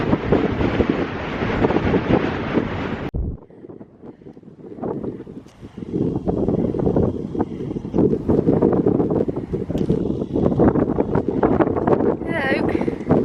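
Strong wind buffets the microphone outdoors in loud, close gusts that roar, drop away briefly, then return as continuous rumbling blasts.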